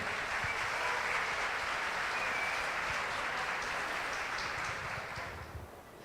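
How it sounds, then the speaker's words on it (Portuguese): An audience at a law conference applauds to welcome a speaker, a broad, even roar of many hands that holds steady for several seconds before tapering off near the end. "eu convido a todos a dar uma salva de palmas e receber a professora"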